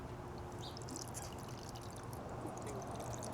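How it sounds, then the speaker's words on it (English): Water poured into a bird waterer in a garden, a faint steady trickling pour with light splashing throughout. "we just fill it with water and put it over near the spots where they keep flying into"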